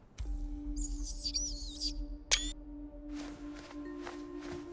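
Chirping birdlike calls in the video game Dune Awakening: a short run of warbling tweets over a steady low hum, followed by a sharp electronic blip and faint soft footsteps, with no voices.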